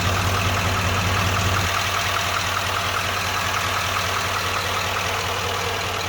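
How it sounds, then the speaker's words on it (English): A Chevrolet Silverado Duramax 3500HD diesel engine idles close by with the hood open, a steady low rumble that drops slightly in pitch after the first couple of seconds, with no talking. "Oh, look at that huge engine."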